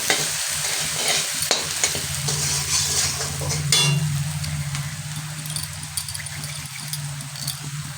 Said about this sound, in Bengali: তো প্রায় লাল লাল করে ভাজা প্রায় হয়েই গেছে।